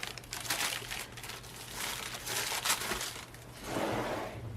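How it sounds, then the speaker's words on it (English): Wax paper crinkles and rustles steadily as it is peeled off and removed during a crafting session, a close, continuous papery crackle that swells and fades with several louder bursts and no talking. "Let's go ahead and just get rid of this noisy wax paper."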